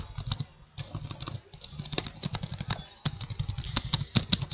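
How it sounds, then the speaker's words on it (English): Rapid, steady clatter of keys on a computer keyboard typing into a spreadsheet, close and fairly loud, with a brief pause midway before the tapping resumes. "So I'm just typing anything over here."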